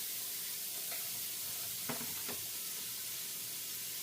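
An electric oil skillet from Saladmaster, already heated, gives off a soft, steady sizzle and simmer with a few faint pops and stirring clicks, close and quiet, with no one speaking.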